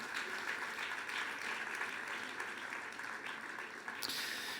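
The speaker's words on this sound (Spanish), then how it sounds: "Fuerte ese aplauso de alabanza al Señor." Church congregation applauding in praise during a Spanish-language revival service, a steady sustained wash of clapping throughout with a brief sharper burst near the end.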